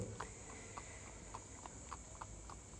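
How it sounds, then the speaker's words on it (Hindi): A mare pulling a horse buggy clip-clops along at a steady trotting rhythm, hooves striking in regular even beats that sound moderately distant and faint, while crickets chirp continuously in the background. "ये आज तक की बग्गी में चलाए जाने वाली हमारी सबसे बेस्ट घोड़ी है"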